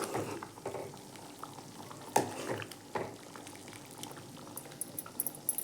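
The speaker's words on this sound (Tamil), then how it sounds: "குழம்பு வேகுது" Tamarind kuzhambu with manathakkali seeds bubbles in a pot, with soft, uneven blips of boiling, a couple of louder stirring or bubbling bursts, and a quiet simmering hiss beneath.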